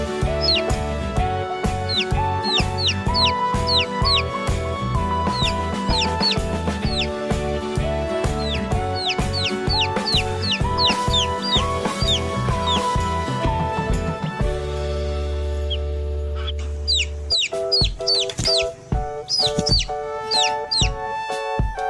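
Repeated clucking and short squawky calls from chickens, close and busy, with rhythmic tapping under them and a brief low hum partway through.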